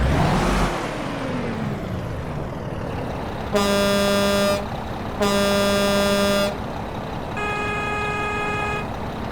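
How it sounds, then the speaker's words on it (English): A Kenworth W990 truck air horn in American Truck Simulator blasts three times, two long loud blasts then a slightly softer one, over a rumbling idling engine. "the air horns are pretty awesome"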